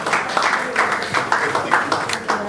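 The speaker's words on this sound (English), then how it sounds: "With a standing round of applause" Applause at an engineering society gathering honouring engineer Atinuke Owola, a crowd clapping in a steady rolling wash with a voice speaking over it.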